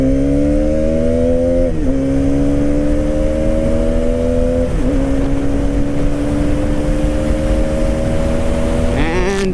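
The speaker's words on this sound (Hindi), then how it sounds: "so let us check out how fast this motorcycle accelerates" A 2023 Hero Karizma XMR motorcycle accelerates hard, its engine rising in pitch through several gears with brief dips at each shift, loud and close amid steady wind rush, no talking.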